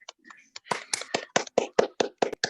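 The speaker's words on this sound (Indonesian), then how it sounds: "Boleh tepuk tangan ya Bapak Ibu untuk Pak Harsa" A small audience claps for a speaker at an insurance sharing session, giving a short burst of sparse, separate claps that grow slightly denser over about two seconds, with no voices.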